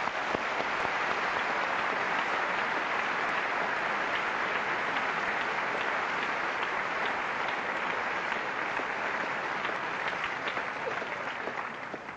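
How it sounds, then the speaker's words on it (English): A live audience at an atheism versus Christianity debate gives both debaters a round of applause, producing steady, dense clapping that holds loud and even throughout before easing slightly at the very end. "Why don't we offer a round of applause to both gentlemen."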